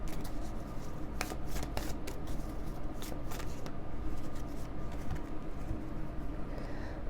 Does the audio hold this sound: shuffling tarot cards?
yes